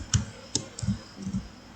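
Typing on a computer keyboard, a few soft, close key clicks in an irregular rhythm against a quiet room.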